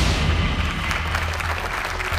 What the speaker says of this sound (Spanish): Aplauso espontáneo del Tribunal Celestial